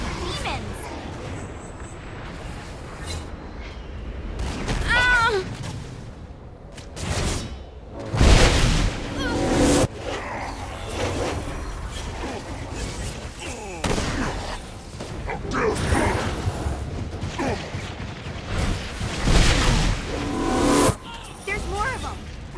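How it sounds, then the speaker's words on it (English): Vacuum stomp attack in the video game Saints Row: Gat Out of Hell, heard as heavy booming impacts and blasts amid gunfire and game noise, with a voice talking over the action. "the vacuum stomp draws enemies towards them in a frightful and deadly collision"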